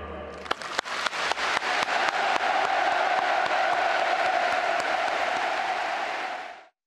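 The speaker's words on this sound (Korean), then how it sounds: "김정은 국무위원장께 아낌없는 찬사와 박수를 보냅니다" A large crowd at the 2018 Pyongyang inter-Korean summit breaks into sustained applause and cheering for Kim Jong-un, starting with a few separate claps that swell into a dense, loud, steady roar before cutting off.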